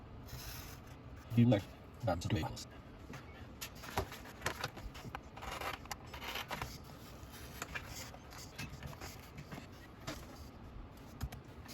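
A blade cuts a straight line through a 2.5-inch section of a quarter-inch scale set model. A few short, close scraping strokes come early, then faint rasping and handling noise continue quietly.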